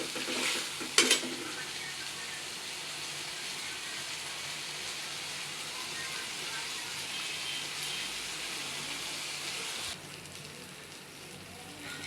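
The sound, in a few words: onion with ginger paste being stirred and fried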